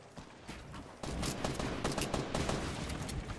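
Dense Fortnite gunfire in a fast close-range fight, bursts and rapid shots crowding together loudly after a quieter opening second.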